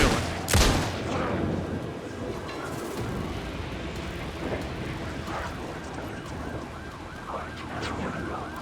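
Gunfire in Alan Wake 2: a sharp loud shot at the start, then sustained combat noise with wailing, siren-like tones and scattered fainter impacts.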